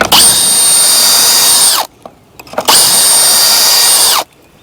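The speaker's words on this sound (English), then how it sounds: "You know, you need a combo where you have your impact driver." An impact driver sinks screws into the wood of a raised garden bed, two sustained high-pitched whirring bursts of about two seconds each, close and loud, with a short pause between them.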